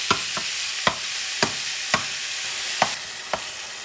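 Ground meat for Puerto Rican carne molida stirred in a hot pan, a steady sizzle broken by sharp scrapes of the spoon about every half second, close and fairly loud with no talking.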